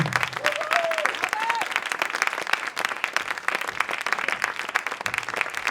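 Lively audience applause at a launch evening in France, rapid dense clapping sustained throughout, with a brief whistle or vocal cheer rising above it early on.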